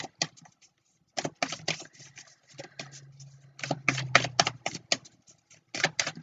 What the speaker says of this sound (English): Shuffle this a few times and start pulling